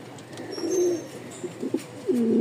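Giribaz pigeons, a jet-black Rajshahi pair, coo at close range in a loft, with deep rolling calls rising and falling over a light background hum.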